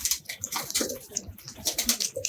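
A pigeon gives soft, faint cooing and rustling sounds close by, heard briefly in a quiet setting without speech.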